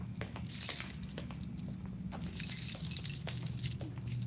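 Keys jangling and clinking in short bursts while someone works late in a dark building, fairly faint metallic jingles over low background hum.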